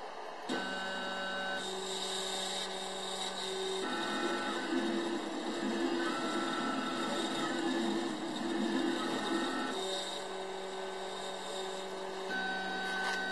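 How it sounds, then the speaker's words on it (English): A DCK40 laser cutter running with the laser switched off, its head traveling along the gantry as a steady mechanical whir with tonal stepper whine and shifting pitches, continuous and fairly close, no talking. "I'm turning the machine on, but not the laser. So I just want to show you that the head does move slower."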